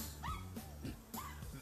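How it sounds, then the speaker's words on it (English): A dog gives soft, faint yips and whimpering barks in the background, several short calls in a row at low volume, heard alone with no speech. "Oh, that's the dog?"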